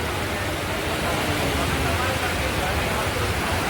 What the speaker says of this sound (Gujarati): ડીસામાં જોરદાર વરસાદ છે